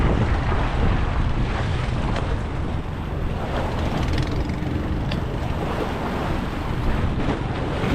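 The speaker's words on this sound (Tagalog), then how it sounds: "Sa taas masyadong mahangin ngayon." Strong wind roars across the deck of a fishing mother boat at sea, a loud continuous rush mixed with the wash of waves and no voices.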